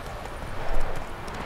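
A horse gallops in The Witcher 3 video game, quick rhythmic clip-clopping hooves over a noisy, busy background, brief and fairly loud.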